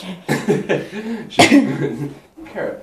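Several rough, bursting coughs sound up close, mixed in with a voice and a brief throaty sound.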